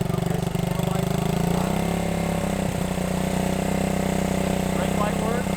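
A 1971 Honda CB100 motorcycle runs after a cold start, its small engine putting out a steady, close, buzzing idle with slight revving shifts, while people talk over it.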